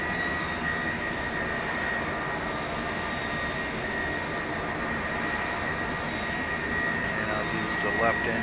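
Steady jet engine roar from an airliner in a flight simulator game, a continuous loud drone throughout with a voice talking over it.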